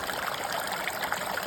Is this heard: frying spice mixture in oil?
no